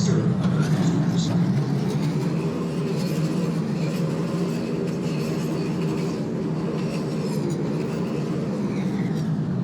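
A CTA Orange Line train in the Roblox video game runs steadily with a constant broadband rumble and faint rail rattle, continuous and close from start to finish.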